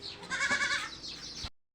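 A Boer goat with long, large horns bleats on a goat breeding farm in Aceh, one long, wavering nasal bleat close by and fairly quiet, with no talk over it.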